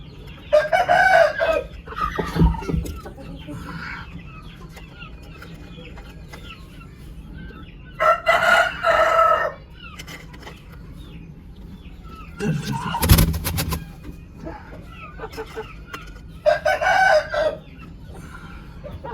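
Hens cluck in repeated bursts around a broody hen being settled on artificial eggs, and a rooster crows loudly nearby, with short gaps of quieter farmyard background between the calls.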